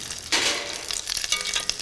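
Arancini risotto balls drop into hot oil and sizzle with a sudden bubbling hiss that settles into steady crackling frying, close and fairly quiet.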